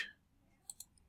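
Two sharp computer mouse clicks close together, crisp and quiet at close range, made while selecting an image file.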